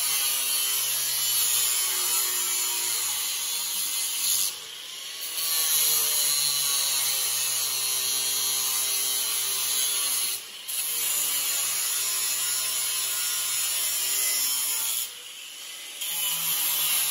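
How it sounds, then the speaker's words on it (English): A power tool grinds steadily through a 16-foot steel hog panel being cut down into smaller lambing pen panels, a loud continuous whine that stops briefly three times between cuts before resuming. "Tyler's taking a 16-foot hog panel and cutting it into 2 5s and 1 4-foot panel"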